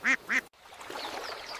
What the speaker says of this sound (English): Mother Duck leads her brood to the water.